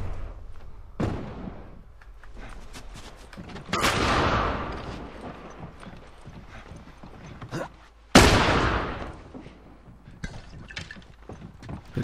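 Gunfire in The Last of Us rings out in heavy, echoing shots, several sharp loud blasts spaced seconds apart over rustling movement and lighter pops.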